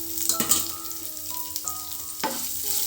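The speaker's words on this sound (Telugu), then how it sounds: "ఒక 30 సెకండ్లు వేగిన పాట సన్న సైజు ఉల్లిపాయ ఒకటి ఇలాగ సన్నగా తరుక్కొని వేసుకోండి" Thinly sliced small onion frying in hot oil in a pan, a steady close sizzle with crackling pops throughout and no talking.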